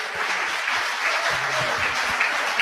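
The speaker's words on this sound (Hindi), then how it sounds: "हालेलुया, जोरदार तालियां बजाएंगे।" A church congregation applauds during a Lenten Sunday service, a continuous full wash of clapping from many people with a faint murmur of voices beneath.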